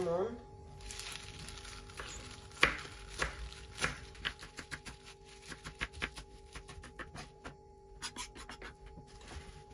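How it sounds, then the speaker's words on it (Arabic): An onion being sliced on a board with a knife for spinach fatayer, giving a run of crisp, irregular chopping taps. A voice is heard faintly over a low background hum. "هلا ابقص البصل بهذا الشكل شرائح من قطع البصل"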